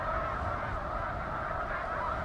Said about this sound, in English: Snow geese also make a honking sound like Canada geese, but it tends to be a little bit higher pitched